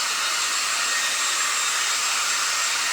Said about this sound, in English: Get rid of the dryer.